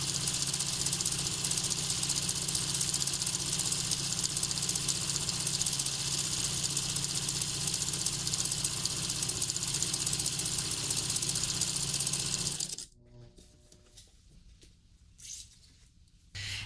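A sewing machine stitches a fabric half apron with a steady, even motor whir and rapid needle chatter that runs for about thirteen seconds, then stops abruptly, leaving near silence with a few faint clicks.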